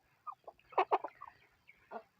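A chicken recovering from ngorok, a snoring respiratory illness, after treatment with medicine, gives several short clucks close by, with a tight pair of louder clucks in the middle and one more after a pause.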